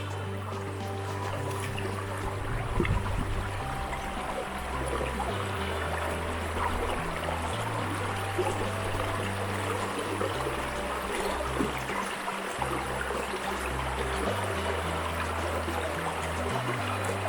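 Water flushes steadily through a dream mat sluice used for gold prospecting, a continuous trickling stream over the mat that stays even and close throughout, with no talk.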